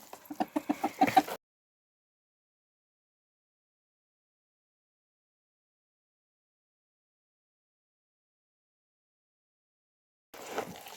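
Hens at feeding time in a Ukrainian farmyard give a short burst of rhythmic clucking, close and fairly loud, then fall silent before a brief final cluck at the end.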